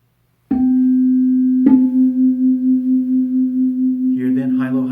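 Two slightly mistuned tuning forks near 256 Hz ring together as a steady pure tone, struck twice, with a slow regular throb of loud-soft beating swelling and fading; a voice begins speaking over the tone near the end.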